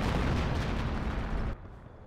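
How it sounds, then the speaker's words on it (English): Rocket barrage from 20 cm rocket artillery in the Company of Heroes 1 strategy game, a loud dense rumble of continuous blasts filling the first moments and then cutting to a quieter tail, with no talk. "that's actually a 20 centimeter rocket barrage"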